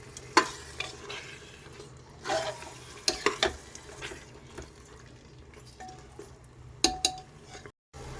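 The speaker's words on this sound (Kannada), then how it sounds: "ಟೊಮೆಟೊ ಸ್ಮ್ಯಾಶ್ ಆಗೋ ತನಕ ನಾವು ಬೇಯಿಸ್ಕೋಬೇಕು." Tomatoes cook in a pan for Thalapakatti mutton biryani, giving a soft, low sizzle under sharp, intermittent scrapes and clinks of a spoon against the pan, close by, and no one speaks.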